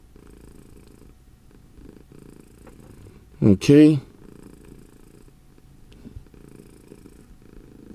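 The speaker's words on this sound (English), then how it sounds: "purring is putting me to sleep." A cat purrs steadily and close by in a low, continuous rumble, briefly interrupted by one short spoken word midway.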